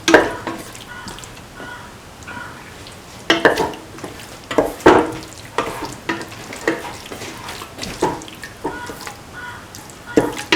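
Beef sautés in a pan with garam masala and mixed spices for a tomato and coconut milk stew, giving a steady sizzle broken by repeated scraping stirs of a utensil against the pan, with no talking.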